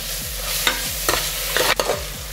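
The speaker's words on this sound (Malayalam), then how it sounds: "ആ ഇഞ്ചി വെളുത്തുള്ളിയുടെ പച്ചച്ചുവ പോകുന്നത് വരെ ഒന്ന് ഫ്രൈ ചെയ്യുക" Ginger garlic paste fries in a pan for a mutton curry, with a constant sizzle broken by several sharp scraping strokes of a spoon.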